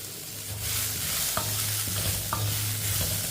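Beetroot and vegetables stirred and sautéing lightly in a pan with asafoetida, a steady low sizzle running throughout with a couple of brief utensil scrapes, close and alone.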